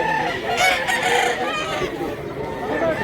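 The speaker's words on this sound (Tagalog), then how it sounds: "Naghangig manok." A rooster crows at a market in Mantalungon, Cebu, its call rising and falling for about two seconds over a steady background hum, moderately close.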